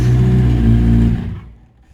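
A Yamaha R1 sportbike with a snapped gear lever roars loudly nearby, a steady droning engine note that drops away and fades out within two seconds.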